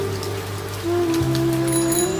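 Steady rain hisses throughout, with soft sustained tones running underneath and no voices.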